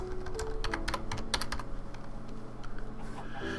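Rapid clicks of a computer keyboard being typed on at close range, with quick bursts of keystrokes over a steady low background hum, and no voice.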